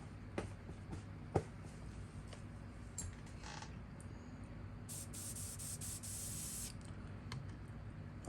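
A PS 771 airbrush with a 0.18 nozzle sprays paint onto a fishing lure in faint, short hissing bursts, the longest near the end, over a quiet low hum.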